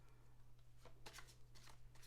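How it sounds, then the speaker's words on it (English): A new tarot deck being shuffled by hand, giving soft papery riffling bursts over a steady low hum, close and fairly quiet. "I want to see how these shuffle"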